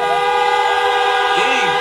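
Audience members at a live motivational talk sound horns in a continuous, dense blare of overlapping honks, loud and sustained throughout, with faint voices beneath.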